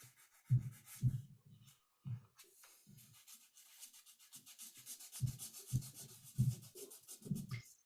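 Rhythmic rubbing strokes of sandpaper on wood over a fissure filled with brass powder and glue, close and fairly soft, in uneven bursts with short pauses between.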